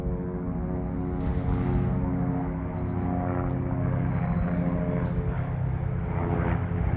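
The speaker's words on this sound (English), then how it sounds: "again as the helicopter flies overhead" A helicopter passes overhead as a steady, droning engine hum with a throbbing tonal buzz that holds at an even loudness for several seconds.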